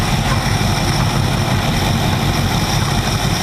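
The Tide Car's engine is cranked over during spark testing through the distributor cap, rotor and plug wire, giving a loud, steady, close mechanical drone that runs unbroken with no talking.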